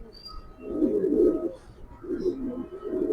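A Kitel racing pigeon, a raced bird from 2022, cooing close at hand in a few throaty rolling phrases, with a quiet pause between bursts.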